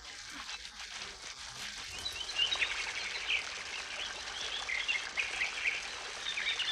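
White-throated dipper near a mountain stream gives repeated high sharp calls over the steady rush of running water, moderately close.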